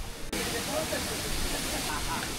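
A waterfall pours into a deep plunge pool in bright summer heat, a broad, steady roar that cuts in abruptly and stays loud and continuous, with voices faintly audible beneath it.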